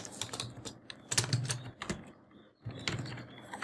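Computer keyboard keys tapped out in quick irregular bursts while entering code for a Visual Basic 6.0 and MS Access database project, close and crisp, with a short pause in the middle and no talk.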